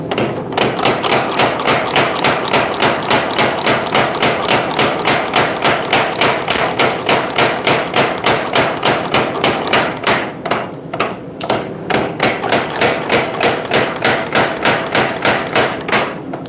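A hammer forging a tomahawk head on an anvil, loud steady rhythmic blows about two per second, continuing for the whole stretch with only a brief pause near the middle.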